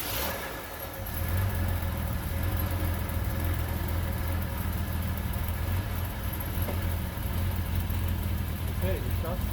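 A Bitter SC 377 with Bosch L-Jetronic fuel injection catches on a cold start and settles into a rough, uneven idle, a steady low engine drone with slight wavering, while people talk nearby.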